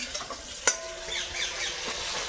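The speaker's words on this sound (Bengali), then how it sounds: "এই বেগুন ভাজা বাড়ির বেগুন ভাজা চলছে" Oil sizzles steadily as eggplant slices fry in a pan, with a sharp clack of a utensil near the start and soft stirring scrapes.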